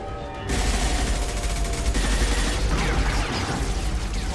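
Dense, sustained automatic gunfire rattles on for several seconds in a Mass Effect 2 firefight, loud and close with overlapping bursts and no clear gaps.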